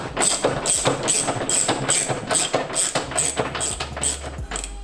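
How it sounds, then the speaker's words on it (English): Palm ratchet driving a subframe bolt on a Lexus IS300 / Toyota Mark II, a fast, even run of close metallic clicks repeating steadily throughout. "Take my ratchet, and I just use a palm ratchet, and then make sure the bolt's going in nice and easy."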